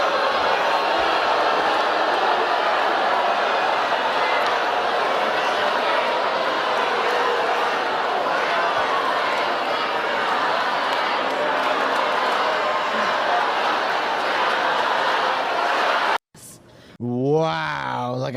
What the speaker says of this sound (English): I've heard her get booed before, but that was unlike any other